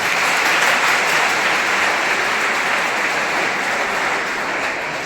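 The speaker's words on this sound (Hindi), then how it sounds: "ताली बजाओ" Students at a university results gathering break into loud, dense applause, a steady continuous wash of many hands clapping that holds for several seconds and eases slightly at the end, with no talking.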